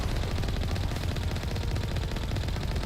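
The Colossus, a huge enemy war machine in the Mass Effect video game, fires in a dense, unbroken barrage of loud, rapid shots that roar steadily across the whole stretch with no pauses.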